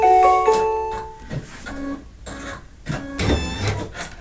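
An embroidery machine stitches down a seam on an in-the-hoop mug rug, giving a busy run of rapid mechanical whirring and clicking with shifting pitch, close and fairly loud.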